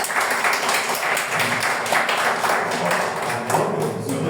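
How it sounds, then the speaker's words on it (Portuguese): Audience applause at a church Bible class, a sustained wash of many hands clapping at a steady level, with faint voices mixed under it. "Uma salva de palmas."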